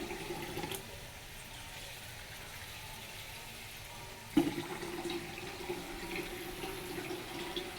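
Water splashes steadily into a pan of Bengali fish curry with cauliflower, a continuous close rushing pour with a brief louder splash midway.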